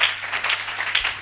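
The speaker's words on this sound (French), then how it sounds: "Applaudissons le Seigneur." A church congregation applauds, a dense patter of many hands clapping with loose rhythmic swells, fairly close and steady through the short stretch.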